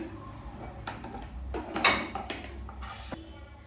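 Lemon and yam bean being cut in a home kitchen, a few scattered knife taps and clinks of utensils against a board or plate, close and fairly quiet.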